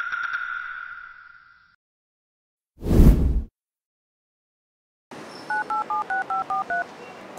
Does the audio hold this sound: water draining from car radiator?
no